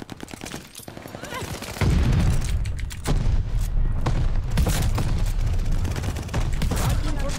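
Dense gunfire from the World War II shooter Call of Duty: Vanguard, loud and continuous bursts with heavy low thumps after the first couple of seconds, with talk mixed in.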